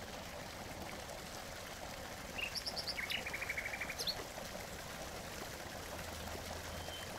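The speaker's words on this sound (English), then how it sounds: "A nightingale's song resonates from the woodland beyond the river" Songbird melody sung from woodland across a river at dusk: a short burst of bright whistled phrases and rapid trills lasting about two seconds, carried over a steady wash of flowing water.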